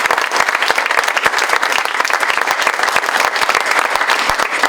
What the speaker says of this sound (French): je vous inviterai à les applaudir de nouveau